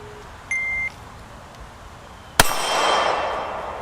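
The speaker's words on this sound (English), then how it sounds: "Cameraman's gonna give me the timer, shot timer. We're gonna go off, and then I'm gonna draw, and we're gonna take one shot at the gong." A shot timer gives a short electronic beep, then a pistol round strikes a steel gong a moment later with a single sharp, loud clang whose metallic ring lingers and fades.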